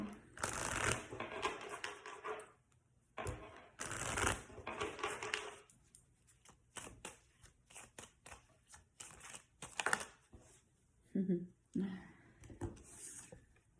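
Tarot cards are shuffled in a series of papery riffles and soft slaps with brief pauses, interleaved with stretches of a voice talking over the handling.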